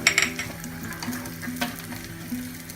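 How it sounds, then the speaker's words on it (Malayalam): Grated coconut frying in about two spoons of coconut oil in a pan, a soft steady sizzle with a few light clinks of a spoon near the start. "തേങ്ങ ആദ്യം വറുത്തെടുക്കാം."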